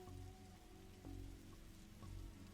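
Soft steady rain falls in the game The Darkside Detective, a quiet continuous patter with a low ambient hum underneath and no talking.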